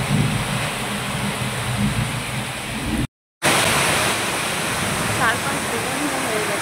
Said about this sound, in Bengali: ঝড়ের মতন বৃষ্টি হচ্ছে